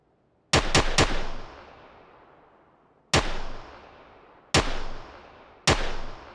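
Gunfire in the battle-royale game PUBG: a quick burst of three sharp shots, then three more single shots spaced over a few seconds, each loud and close with a ringing tail.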